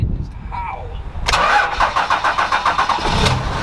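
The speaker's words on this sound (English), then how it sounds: "I cannot believe to you that it just started like that." A large diesel truck engine cranks briefly and turns over, then settles into a loud, steady rumbling idle close by, with howling wind noise before it starts.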